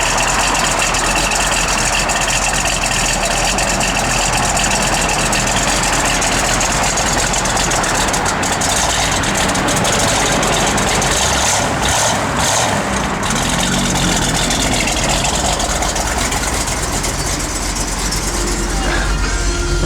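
A 1970 Plymouth Cuda sits idling with a steady, continuous engine rumble close by for the whole stretch, unchanging in rhythm, with faint background noise over it.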